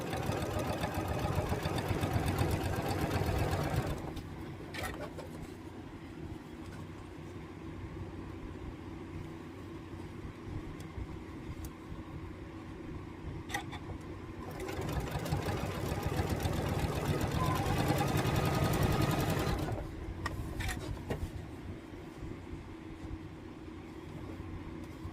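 A sewing machine stitching a quilt block runs in two sustained bursts of steady, close mechanical whirring, separated by quieter stretches with faint clicks and handling sounds.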